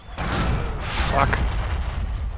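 Mortar fire in Forgotten Hope 2 during the siege of Giarabub, a heavy booming blast that sets off a sustained rumble, loud and close, with a voice speaking briefly over it.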